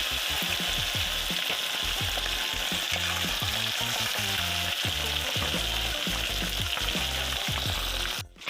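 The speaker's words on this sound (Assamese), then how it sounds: "আমাৰ তেল গৰম হৈ গ'ল। এতিয়া আমি ইয়াত এইটো ব্ৰইলাৰটো এনেকৈ দি দিছোঁ।" A whole broiler chicken frying in hot oil in a wok over a low gas flame, a loud continuous sizzle with repeated rhythmic stirring or turning clatter throughout.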